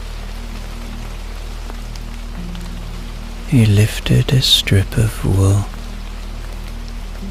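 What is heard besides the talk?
steady drizzle of rain through open window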